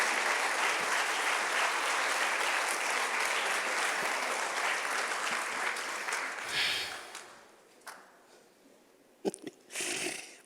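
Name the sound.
congregation applauding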